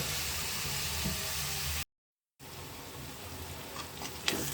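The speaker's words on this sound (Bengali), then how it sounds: "পেঁয়াজ ভাজি করা হলো" Onions sizzle in hot oil in a pan for fish bhuna, a steady frying hiss broken by a brief silent gap, then resuming with faint crackles and a few light clinks; no talk.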